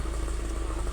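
Motorcycle without lights passing on a road, heard from inside a car as a steady low engine drone with a pulsing mid-range hum, close and continuous.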